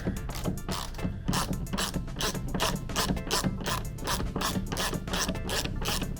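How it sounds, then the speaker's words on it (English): A T30 Torx driver ratchets steadily as it backs out screws from the plastic body panels of an E-Z-GO RXV golf cart, giving a close, continuous clicking and rasping with no talk. "Now we're gonna use that same T30 to get down in here and crank these out."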